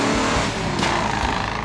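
A restored Plymouth 'Cuda driving around town, its engine a continuous loud rumble with a slight rev, close by and with no talking.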